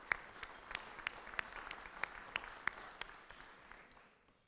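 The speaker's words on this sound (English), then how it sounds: "Give him a round of applause." Fairly faint applause at a Rotary club meeting, with a few distinct claps ringing out over a soft bed of clapping that fades away toward the end.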